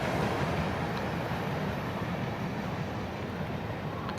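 A CSX freight train, M512, runs northbound on the Henderson subdivision toward downtown Sebree, Kentucky, a steady broad rumble that holds at an even level throughout with no voices.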